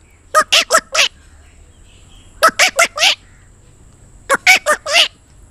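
A voice mimics a bulbul's call in three quick bursts of four short, sharp chirps each, spaced about two seconds apart and heard close and clear, with no other talk.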